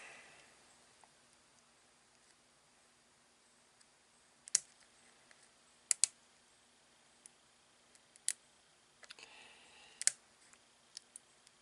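Snips cut plastic rear bumper supports on a 1980–1986 Ford F350 build, giving a handful of faint, sharp clicks scattered across a quiet background.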